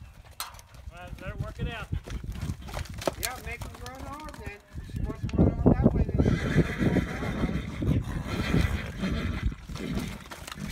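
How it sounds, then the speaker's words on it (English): A donkey brays loudly and repeatedly in wheezing, rhythmic see-saw cries, close by, with hoof sounds and people talking around it. "The donkey."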